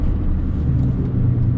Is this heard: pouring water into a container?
no